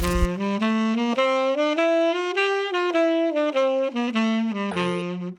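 Saxophone played with the downbeats accented, a short run of connected notes rising and falling, close and clear, alone without talk.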